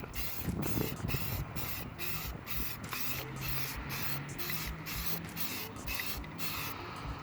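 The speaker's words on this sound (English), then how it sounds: "Spray paint." Rapid bursts of spray hissing from an aerosol can of spray paint, pulsing on and off in short regular blasts over steady, windy outdoor background noise.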